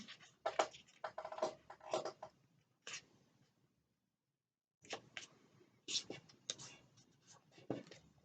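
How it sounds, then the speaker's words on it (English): Contrasting card stock folded in half for a panel card: soft papery creasing and rubbing in short close bursts, one pause of silence partway through, with no talking. "Then I'm going to fold it in half again."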